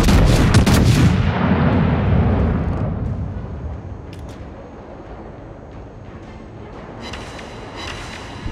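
Naval artillery salvo from the battleship Ohio in World of Warships, a loud close cannon blast with booming rumble decaying over several seconds, followed by faint mechanical clicks and a light crackling tail.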